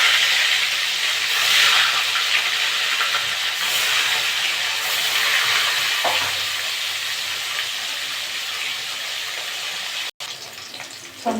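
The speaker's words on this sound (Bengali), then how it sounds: "বাকি মাছগুলো আমি একইভাবে ভেজে নেব।" Tilapia fish fry in hot oil with a continuous hissing, bubbling sizzle, loud and close, fading somewhat toward the end, briefly broken by a clatter, with no one talking.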